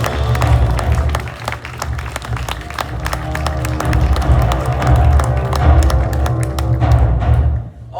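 Applause from a school farewell gathering, dense clapping with thumps and some cheering from the crowd over a low musical hum, steady and loud throughout before fading at the end.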